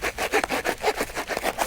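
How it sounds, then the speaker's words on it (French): Hand saw rasping back and forth through a tough insect nest, quick rhythmic scraping strokes, close and clear with no talk. "Je suis obligé d'y aller à la scie."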